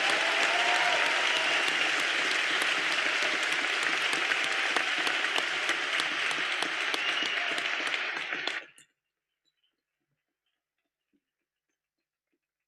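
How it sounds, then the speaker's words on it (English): Sustained applause from the crowd for graduates at a law school commencement ceremony, dense and steady for about nine seconds before cutting off abruptly into near silence. "give one more round of applause for our graduates"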